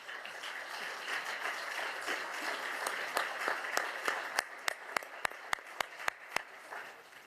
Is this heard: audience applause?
yes